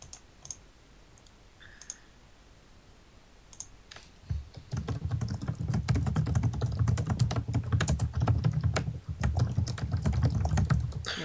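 Scattered clicks give way to rapid, continuous keyboard typing, close and fairly loud, with dense clattering keystrokes and a low thumping underneath.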